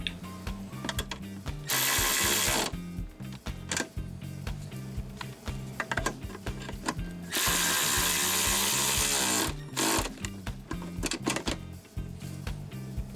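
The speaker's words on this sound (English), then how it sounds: "now what we're going to do is we're going to tighten up all three of the bolts and nuts" Ratchet wrench tightening bolts and nuts on a Land Rover Discovery 1, quick repeated clicking strokes close by, broken by short pauses and a few longer bursts of faster ratcheting, with no talk.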